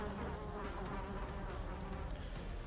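Continuous insect-like buzzing from a mosquito enemy in Darkest Dungeon, a steady dense drone with faint flickers, sustained at even volume throughout.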